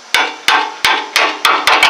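A hammer taps on a metal suspension part while an upper ball joint is replaced on a 1997 vehicle, six sharp close strikes at a steady, slightly quickening pace, each with a short ringing decay.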